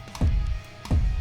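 Two deep, punchy kick drum sample hits triggered at original pitch on C1, about two-thirds of a second apart, each a short thump with a low boom, heard alone.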